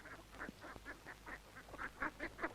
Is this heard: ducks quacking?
yes